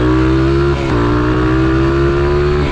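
A convertible car's engine idles close by with a loud, steady droning rumble and a brief dip in pitch before settling back to an even throb, with no voices over it.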